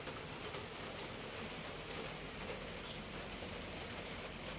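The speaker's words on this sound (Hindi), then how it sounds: "देखिए बारिश हो रहा है" Steady rain falls in the morning onto a rooftop, a dense, continuous hiss with scattered small ticks of drops close by, alone without any voices.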